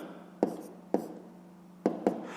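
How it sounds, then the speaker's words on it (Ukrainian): Pen strokes on paper while a Ukrainian fifth-grade math answer is written out by hand: four distinct, fairly faint taps and scratches in an uneven rhythm against a quiet background, with no talking. "Пишемо відповідь."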